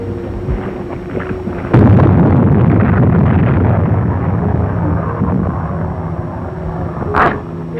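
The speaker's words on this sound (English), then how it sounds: "Erstes Torpedo fertig machen zum Schuss." A World War II German U-boat torpedo fires and detonates, heard as a sudden loud burst over a low engine drone, followed by a long, heavy rumbling roar that slowly fades and ends in a final sharp crack.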